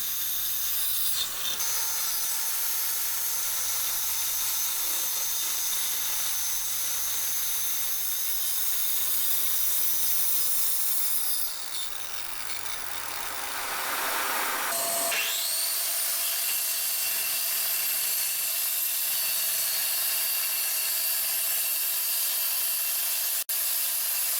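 A power saw cuts plywood with dust extraction running, a loud steady roaring whine that dips briefly partway through, then the noise changes character and carries on with the extractor's hiss.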